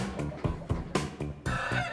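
Hens cluck and squawk in a busy, overlapping flurry of short calls, close by, with one brief crow-like cry near the end.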